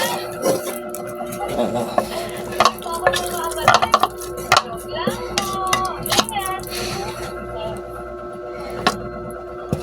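Tuna sisig is scraped and spooned from a pan into a bowl, with irregular metallic clinks and scrapes, a faint sizzle underneath, and a person talking throughout.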